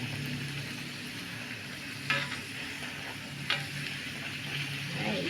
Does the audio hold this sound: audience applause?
no